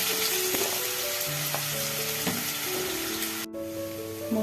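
Chopped raw potatoes frying in hot oil for a raw-banana kofta curry, a steady close crackling sizzle throughout with a brief dip near the end.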